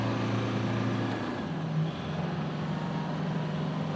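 Toyota Hilux Black Edition in 4LO with diff lock, engine droning steadily while crawling off-road; a low, continuous rumble with a slight pitch shift midway and no talk.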